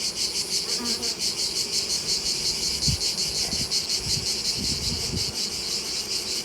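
Cicadas singing during a heat wave and drought, a loud, continuous shrill buzz pulsing steadily throughout, with faint low knocks and rustles from nearby beehive work underneath.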